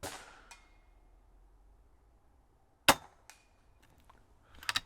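Air rifle firing .177 pellets at a target: a sharp, loud crack near the three-second mark, followed by smaller metallic clicks and a cluster of taps at the end, with quiet pauses between.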